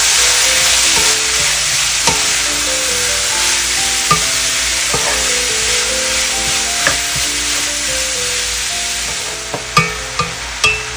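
Beetroot thoran mix sizzles steadily in a pan over a low flame, a loud continuous hiss with occasional soft knocks and a few sharper taps of stirring near the end.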